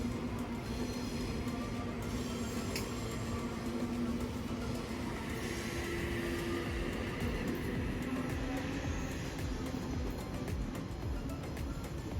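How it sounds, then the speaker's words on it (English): A Sydney train rumbles past in a continuous loud roar of wheels on rails, steady for the whole stretch with no voices. "so enjoy some train clips"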